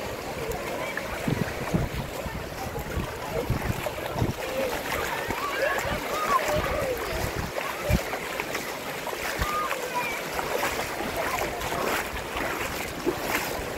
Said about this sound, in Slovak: tu sa zlieva normálny potok do mora